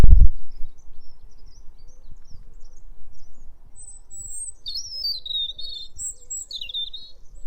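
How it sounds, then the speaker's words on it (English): A robin sings clear, warbling phrases over quiet background hum in the early-morning dawn chorus, moderately near, the song rising and falling in short bursts. "That's a robin."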